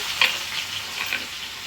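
Thinly chopped onions and green chillies frying in a pan, a steady close sizzle with light stirring scrapes and no voices.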